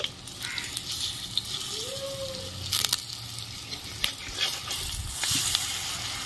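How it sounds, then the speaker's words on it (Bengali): Pumpkin kofta balls frying in hot oil in a pan as they are turned over, a steady soft sizzle with light scraping and stirring clicks, close by. "এক পিঠ ভাজা হয়ে গেছে, আমি এখন উল্টে নিচ্ছি।"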